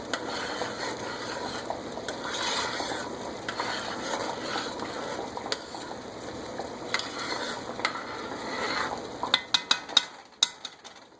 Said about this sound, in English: So it's a rolling boil.